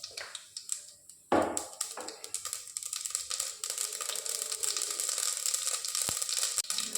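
Mustard seeds splutter and pop in hot groundnut oil in a home kitchen, a dense, continuous crackling sizzle close to the pan, beginning with a sharp burst as the seeds hit the oil.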